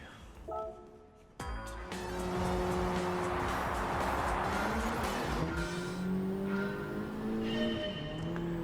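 A 2022 Honda Civic Type R races around the Lake Louise long track in a video game, its engine droning steadily and loud with rising and falling revs and tire squeal, after a brief quieter start.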